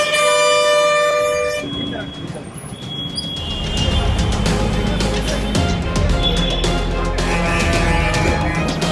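Loud air horns blare from government and private buses on a town road, sustained tonal blasts over continuous traffic noise with voices mixed in.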